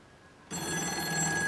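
A telephone bell starts ringing abruptly after a short quiet moment and keeps ringing steadily, fairly faint, with no voices.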